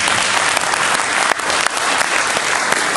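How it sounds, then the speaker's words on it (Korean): An audience at a church gathering in a hotel hall claps steadily and loudly, dense continuous applause filling the whole moment. "이제 박수요."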